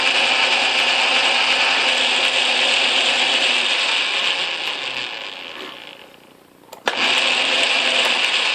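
An Atlas Craftsman lathe runs with its cross slide engaged, giving a steady mechanical whirring and gear chatter that eases off briefly, then resumes after a sharp click.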